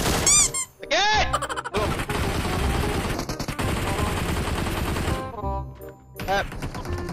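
Sustained automatic gunfire rattles through a shooter video game match using a 3x scope, loud and continuous for several seconds, framed by short squeaky electronic game sounds and brief pauses.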